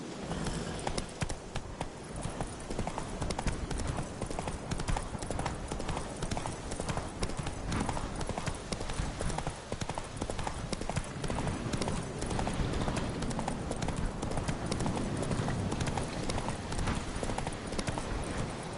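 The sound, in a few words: horse hooves galloping in The Witcher 3 video game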